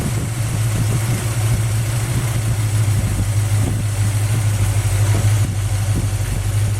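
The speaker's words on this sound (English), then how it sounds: "The motor just kind of shook a little bit." A small block Mopar V8 in a Plymouth Duster idles steadily with its ignition timing being adjusted, giving a loud, close, continuous low rumble with a slightly uneven lope.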